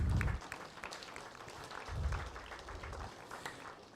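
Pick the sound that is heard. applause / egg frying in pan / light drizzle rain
applause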